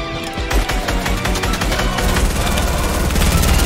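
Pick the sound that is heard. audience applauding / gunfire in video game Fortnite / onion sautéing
gunfire in video game Fortnite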